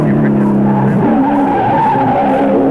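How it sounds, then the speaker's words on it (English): Tyres squeal as a race car slides across the top of Mount Panorama during the 1983 Bathurst 1000. A loud, brief screech rides over the engine note. "Oh, out of there, tyres squealing out towards the wall."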